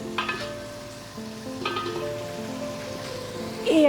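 Water splashed into a pan of sizzling potol, giving a bright crackling hiss that flares at the start and again near the end, close and loud, with a steady fry in between.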